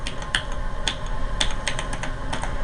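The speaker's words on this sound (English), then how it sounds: "The keyboard is your standard 85 button keyboard." Keys clack on the 85-key keyboard of a 1987 Toshiba T3200 laptop, a quick run of crisp, close, irregular keystrokes with no talk.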